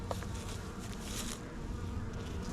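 A dense, steady hum of many honey bees buzzing close by at a hive frame, continuous and fairly quiet, with no voices.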